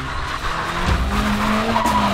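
Car skidding with squealing tyres during a precision driving display around bollards at Saltburn, a close, loud screech over engine revs lasting about two seconds.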